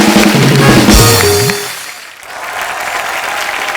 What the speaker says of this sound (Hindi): ये दोनों बच्चों के लिए जोरदार तालियां हो जाएं एक बार।